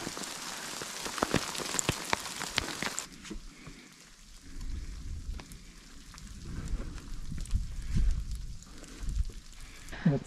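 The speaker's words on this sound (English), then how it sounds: "It is hailing on us. Why am I always out in the rain?" Hail and rain patter hard on the surroundings during a stormy mountain hike in the Drakensberg, a steady dense drumming with a few sharper hits, while people talk over it.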